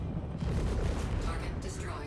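An M50 gun firing in a video game, a dense burst of shots lasting about two seconds, loud and close, with a voice talking over it.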